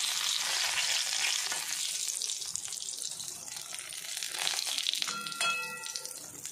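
Eggplant frying in oil, a soft continuous sizzle with faint stirring and watery clatter, moderately close and fairly quiet, with no clear voices.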